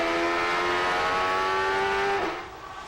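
A 2003 Champ Car screams past during qualifying at the St Petersburg Grand Prix, its high, sustained engine tone holding loud and steady before a quick pitch drop as it flashes under the stand, then fading away.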